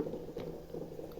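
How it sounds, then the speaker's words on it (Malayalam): Sunflower oil pours into a cooking pan, a brief quiet bubbling, gurgling liquid sound. "നമ്മൾ സൺഫ്ലവർ ഓയിലാണ് ഒഴിച്ച് കൊടുക്കുന്നത്."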